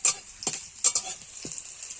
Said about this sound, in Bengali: প্রায় ভাজা ভাজা হয়ে গেছে